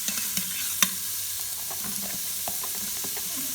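Onions and bell peppers sizzle in butter in a pot for chili, a close, steady crackling hiss with a few sharp clicks of stirring near the start.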